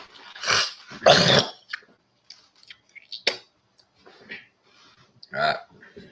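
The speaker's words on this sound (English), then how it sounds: "Dang dog." A dog growls and gives short barks nearby, in a few uneven bursts with quiet gaps between them and a voice in the mix.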